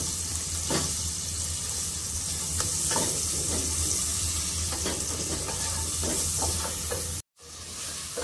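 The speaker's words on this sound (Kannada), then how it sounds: "ಒಂದು ಸ್ವಲ್ಪ ಅರಿಶಿನ ಹಾಕ್ಕೊಂಡು ಮಶ್ರೂಮ್ನ ಚೆನ್ನಾಗಿ 2 ನಿಮಿಷ ಫ್ರೈ ಮಾಡ್ತೀನಿ" Mushrooms with turmeric frying in a pan, a steady close sizzle with scraping stirs from a spatula, then a brief cut to silence near the end before the sizzle resumes.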